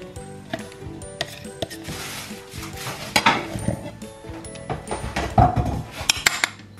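Metal spoons clink and scrape against a bowl in irregular bursts, a busy clatter of utensils stirring a salad close up.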